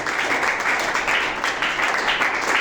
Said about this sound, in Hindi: सही बात है तो ताली से बता दीजिए।